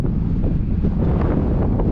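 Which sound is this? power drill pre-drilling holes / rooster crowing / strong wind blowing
strong wind blowing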